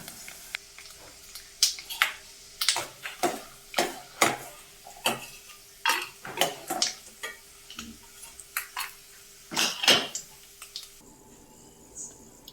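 Cooked rice being scooped from a pot onto a plate, with a series of crisp clinks and scraping taps of a spoon against metal at an uneven pace, a faint hum underneath and a brief quieter stretch at the end.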